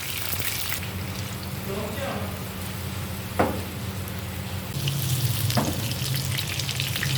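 Boneless spicy chicken muthi kababs fry in a pan with a steady close sizzle and crackle, a couple of sharp knocks or taps partway through, and the frying grows slightly louder near the end.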